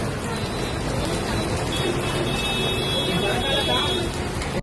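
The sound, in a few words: heavy continuous rain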